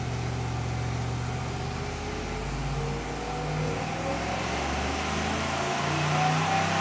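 A fuel-injected 1957 Pontiac engine is run on a dyno, a loud continuous roar that climbs and shifts in pitch as it revs through the pull, with no speech over it.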